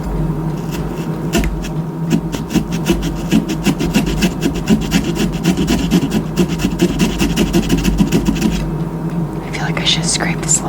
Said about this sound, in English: I should scrape this a little better too on the inside.